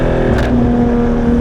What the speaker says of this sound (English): Probably the greatest sounding 911 I've ever heard.